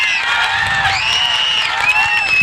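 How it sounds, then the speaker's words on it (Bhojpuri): A Bhojpuri stage show audience cheers and shouts, with high, wavering voices and whoops forming a steady, loud crowd roar throughout. "एक बार पावर स्टार पवन जी के लिए आप सब एक बार जोरदार ताली बजा दीजिए"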